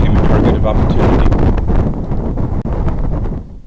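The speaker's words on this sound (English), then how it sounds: "The winds are gusting from 25 to 35 miles an hour" Strong gusts buffet the microphone during a high-wind hunt in open fields, a loud continuous low roar with rumbling swells that dips briefly before returning, with no other sound breaking through.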